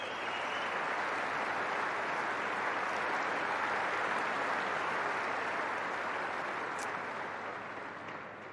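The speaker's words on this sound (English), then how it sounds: "Let's give her a round of applause." A crowd applauds steadily at a tennis trophy ceremony, a dense, even wash of clapping that holds for several seconds and tapers slightly at the end.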